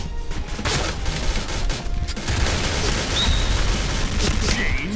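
Rapid HK416 assault rifle fire rattles through a Point Blank online shooter match, continuous bursts of shots layered with dense battle noise throughout, with a voice talking over it.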